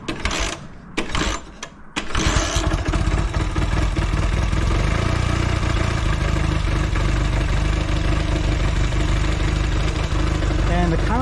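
A Velocette motorcycle engine is given a little throttle after a few sharp mechanical clicks, then runs steadily at a loud, close, even drone with a faint rise toward the end.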